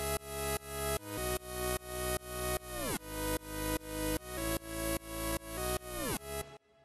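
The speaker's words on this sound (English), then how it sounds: "the first sound we have here is this chord synth" A chord synth loop built with Ableton's Analog instrument plays at 150 BPM, with bright stacked chords pulsing in regular swelling stabs and occasional pitch-bending drops, alone and clean before cutting off at the end.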